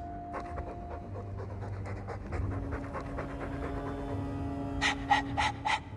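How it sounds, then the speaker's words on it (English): Heavy, rhythmic dog panting from the Dragon Age II video game, steady and close throughout, with game music tones and ambience underneath and a few sharper bright accents near the end. "All that noisy dog breath"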